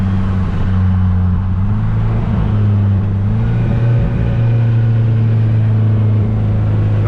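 A Polaris Slingshot SL engine pulls hard under acceleration, a loud, steady low rumble with rising engine tones, heard from the driver's seat without talk.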